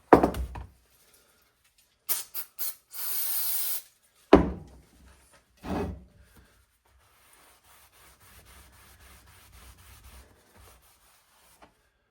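Visor parts for a 9C1 interior get sprayed Landau black from an aerosol can. There is one short, close hiss of spray amid scattered knocks and handling thumps, followed by a long stretch of quiet.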